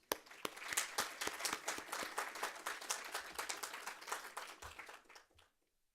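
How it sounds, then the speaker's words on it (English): A room of attendees gives warm applause for young authors at an opening speech event, distinct individual claps within a moderate crowd clapping that fades out near the end. "give a warm applause to our young authors"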